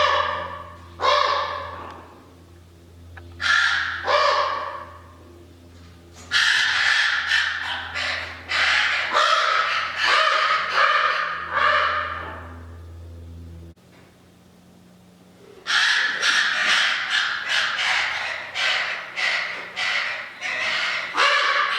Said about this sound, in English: those pterodactyl sounds were actually just baby ravens begging for food